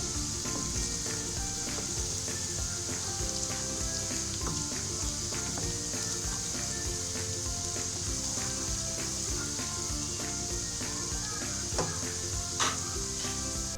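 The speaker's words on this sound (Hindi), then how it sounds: "अदरक फ्राई हो चुका है।" Ginger and garlic frying in a pan for chicken haleem make a continuous close sizzle with frequent light scraping and tapping from stirring, steady in level and with no talk.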